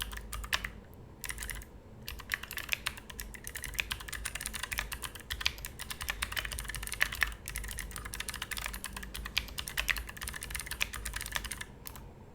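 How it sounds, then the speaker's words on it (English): Steady, brisk typing of code on a computer keyboard, a dense run of close, clicky keystrokes continuing for the whole stretch with no voices. "I'm pretty much typing the same thing but on different dictionaries"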